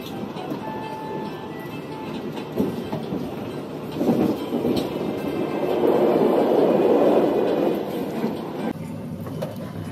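An Argo Dwipangga executive passenger train passes on the Jakarta–Yogyakarta line, a broad rumbling roar that builds to a peak near the middle and then eases off, with no one talking.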